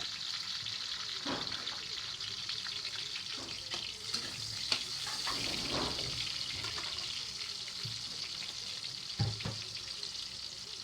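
Onion and garlic sauté in plenty of cooking oil for a Filipino-style adobo, giving a steady close sizzle and crackle with a few stirring scrapes throughout.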